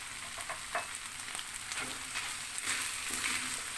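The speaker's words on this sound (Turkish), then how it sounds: "Birkaç dakika daha kavurmaya devam ediyorum." Potatoes sauté in a pan with a soft, continuous sizzle and occasional stirring scrapes, quiet and close, with no talking.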